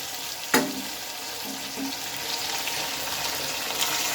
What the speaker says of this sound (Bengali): এখন এই টমেটোটা একটু ভালোভাবে নেড়ে ছেড়ে নেবো